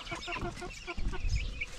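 Chickens clucking in a backyard pen beside ducks, short repeated clucks in quick bursts at close range, with a louder low rustle or thump partway through.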